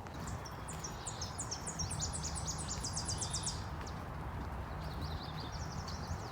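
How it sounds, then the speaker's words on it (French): Birds singing in a park, bright chirping phrases and trills repeating over a steady outdoor hum of wind and distant traffic, moderately distant with no talking. "c'est une petite chanson par les oiseaux"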